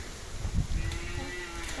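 A cow gives a single low moo inside a farm barn with cattle, pigs and a shed, the call rising briefly and then trailing off over quiet indoor ambience.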